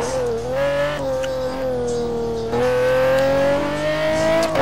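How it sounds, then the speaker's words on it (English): A loud Pagani Zonda GT1 race car sweeps through the Moraine Sweep, turn 5 at Road America, its engine note holding a steady high whine that dips slightly mid-corner before climbing again, with no voices over it. "So John Ludden in the extremely loud Pagani Zonda comes into the Moraine sweep turn 5 turn."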